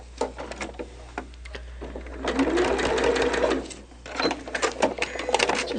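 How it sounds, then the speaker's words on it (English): A sewing machine stitches out through the seam allowance of a fish quilt block in bursts of fast mechanical whirring, stopping and starting close by with brief pauses between runs. "we'll stick that back on the machine and just stitch all the way out through the"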